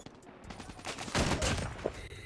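Bursts of gunfire from the Annihilator weapon in Call of Duty Mobile, a dense rattling volley that swells into heavy overlapping blasts midway, loud and close with game noise around it.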